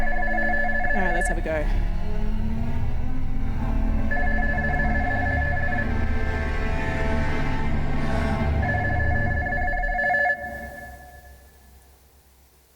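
An old-style telephone bell rings repeatedly on a stage in a loud, insistent pattern with bursts separated by short gaps, a voice speaks briefly over it, and the ringing stops abruptly near the end as a sound fades into reverberant quiet.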